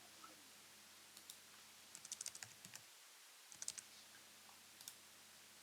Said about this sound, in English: I'm going to go ahead and just type in gem.